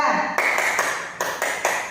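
A group of people in a group guidance counselling session clapping in unison, several sharp synchronized claps spaced out in a short counting pattern, moderately loud in a room.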